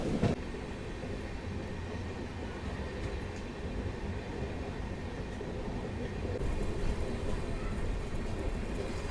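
Kacheguda–Madurai Weekly SF Express rolling along the Guntakal line, heard from aboard as a continuous loud low rumble of wheels and carriage noise with a brief sharp knock near the start.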